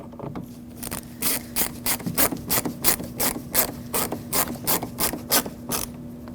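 A screw being driven into the plastic of a 2006-2014 Lexus IS250 front interior door handle gives a steady run of about fifteen close, sharp ratcheting clicks with no talk over it.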